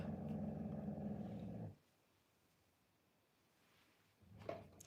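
A dog gives a low, rumbling growl lasting under two seconds at close range, followed by quiet and then a short faint scuffle near the end.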